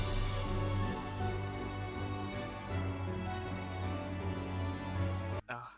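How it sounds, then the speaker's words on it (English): A sad lead melody carried together by strings, choir, piano and harp, full and sustained with a steady low bass underneath, playing continuously before dropping out abruptly near the end. "this lead, which I put on the strings, the choir, the piano, and the harp. And altogether it sounds like this"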